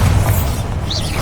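A deep, rumbling blast from the Bombarda spell in Hogwarts Legacy, loud and dense, filling the moment with heavy low-end boom under game sound effects.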